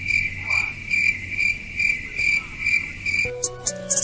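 Crickets chirp steadily in a rhythmic, pulsing pattern at moderate loudness, with a brief burst of music entering near the end.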